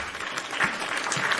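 A short burst of crowd applause dropped into a wrestling podcast as a sound effect, even and continuous clapping heard on its own.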